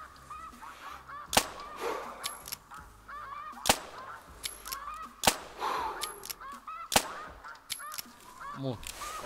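A flock of snow geese honks in The Hunter Classic hunting game, with overlapping nasal calls that rise and fall, broken by three sharp, loud gunshots spaced a few seconds apart.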